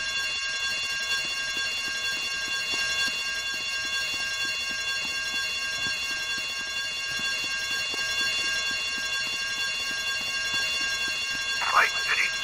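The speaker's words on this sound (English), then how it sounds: "I told you not to touch that alarm!" An alarm rings during a robbery in Grand Theft Auto Vice City, a steady shrill electronic tone holding throughout at moderate level beneath game noise, with a brief sharper burst near the end.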